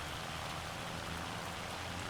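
Steady rain falls in Farming Simulator 25, a dense, even hiss of drops that stays constant and fairly quiet throughout, with no other sounds over it.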